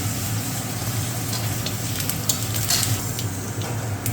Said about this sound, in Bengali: পোস্ত বাটা, ভেজে নিচ্ছি।